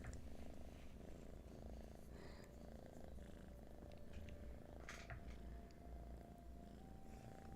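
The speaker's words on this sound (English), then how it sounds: "Your purrs say that you agree." Pet cats purr close to the microphone in a soft, continuous, rumbling drone that stays faint and steady throughout, with no talking.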